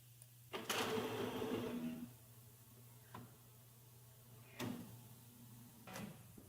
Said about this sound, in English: we'll print a test calibration sheet and take a look and see what it looks like.